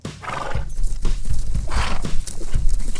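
Hooves pound in a fast, heavy rhythm, close and loud, with a horse's snort and a whinny-like cry mixed in.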